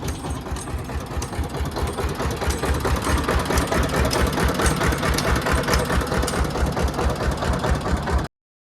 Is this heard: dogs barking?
no